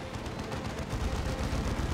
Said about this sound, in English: Assault Cannon is up for Toilailee's